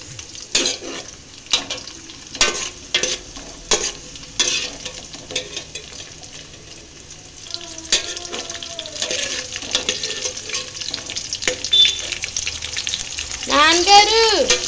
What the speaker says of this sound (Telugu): పచ్చిమిర్చి వేసుకున్నాం, ఇది ఫ్రై అవ్వాలి